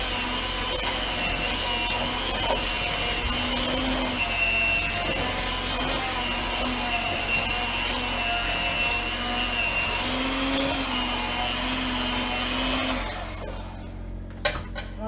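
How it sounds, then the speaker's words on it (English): Electric mixer whirring steadily through lemon cake batter for about thirteen seconds, a continuous motor drone with slight wavering pitch, then cutting off abruptly near the end, leaving quiet room noise. "now I'm going to go ahead and turn the mixer off and turn the sound off for you guys so you don't hear me mixing"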